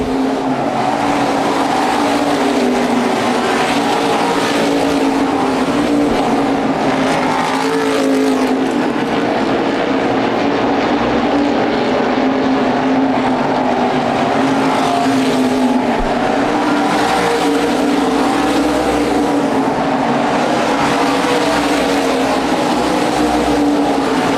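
USA Modified race cars roar around the ORP oval in Indianapolis, a dense, continuous engine drone with passing cars swelling and fading in waves, loud and close with no talk over it.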